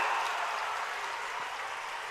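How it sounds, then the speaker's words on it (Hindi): Steady broadband clapping from a large seated crowd at a Banjara Kumbh religious gathering in Godri, continuous and fairly distant, with no voices over it. "यही बैठे बैठे जोरदार ताली बजा दो कि दिल्ली तक आपका अभिनंदन पहुंच जाए।"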